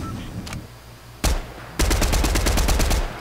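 Fortnite gunfire: a faint distant shot, then a louder close crack, followed by a sustained rapid-fire stream of shots lasting over a second before tapering off.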